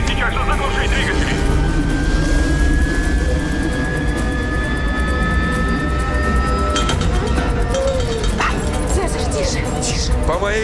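Antonov airplane engines running up for takeoff, a steady rising whine over a dense, noisy rumble, with voices talking throughout.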